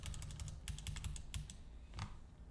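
Fingers type on a computer keyboard in a spreadsheet, with quick, close clusters of soft key clicks in an uneven rhythm over a low background hum.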